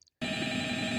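After a brief near-silent moment, the telephone from night 5 of the video game FNAF starts ringing: a continuous, bright electronic ring that holds steady to the end.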